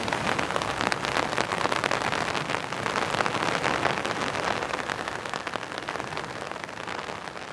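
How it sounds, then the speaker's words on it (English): Rain patters steadily on an umbrella in Ximending, Taipei, a dense, even hiss of drops close overhead with no voices. "Some pitter-patter of rain on an umbrella."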